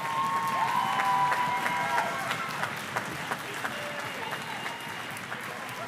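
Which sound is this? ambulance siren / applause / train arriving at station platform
applause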